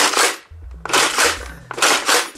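A Nerf-type drum-fed toy blaster fires several loud, crackling bursts, each shot followed by a deep mechanical thump, repeating at close range with no voices.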